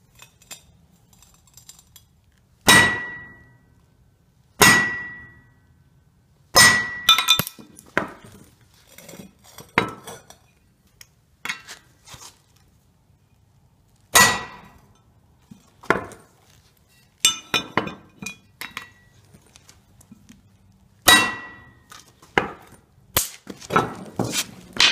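A drive shaft's U-joint is hammered out by hand, with sharp metallic strikes coming in irregular bursts, some single and some in quick clusters, separated by quiet gaps.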